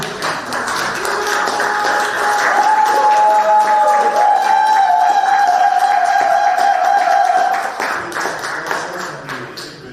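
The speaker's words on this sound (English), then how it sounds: "Please give a warm applause to our third finalist" An audience at the Baltic-Nordic Beer Champion 2024 event claps and cheers as the third finalist steps on stage, a dense, sustained burst of applause and crowd noise with a held tone rising over it before fading.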